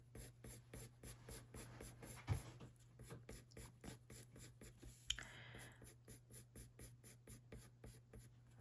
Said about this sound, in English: we want to get onto our flat side of our pencil again